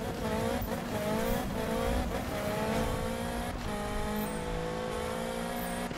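A Nissan GTR with over 1200 horsepower racing in the Need for Speed video game, its engine revving through rising gear sweeps with tire squeal, loud and continuous.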